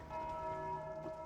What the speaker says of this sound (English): Oh no, we rang the bell.